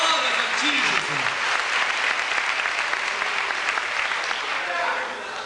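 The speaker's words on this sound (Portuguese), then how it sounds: "Dê uma salva de palmas ao Senhor." A church congregation claps in a full, even burst that holds steady and then begins to fade near the end, with a voice briefly audible at the start.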